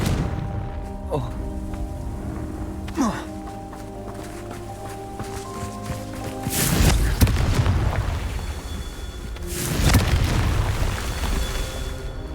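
Blasting-spell explosions in the video game Hogwarts Legacy: two loud booming blasts with rumbling tails over steady game ambience, with a shouted incantation heard.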